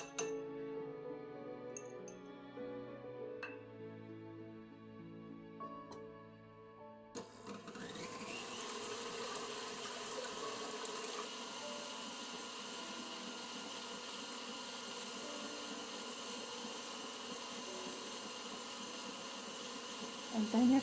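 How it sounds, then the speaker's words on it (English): Electric mixer whipping egg whites with cream of tartar and salt in a large bowl at medium-high speed, a steady whirring drone that starts after a few seconds of quieter clinking and runs on evenly and fairly loud. "beat the egg whites, the cream of tartar, and the salt in a large bowl on medium-high speed"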